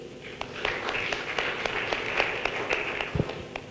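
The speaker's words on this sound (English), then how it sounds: "let's continue applauding him" A small audience at an environmental project symposium applauds a speaker, sparse distinct hand claps in an uneven patter, fairly faint and distant in a room.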